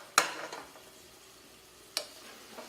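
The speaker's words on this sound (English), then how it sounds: "So I got all this stuff sauteing now." Portobello mushrooms sautéing in a pan, with a soft background sizzle broken by two sharp, close clatters of a utensil against the pan.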